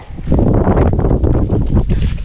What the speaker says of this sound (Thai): ลมมาแล้วลมมาแล้ว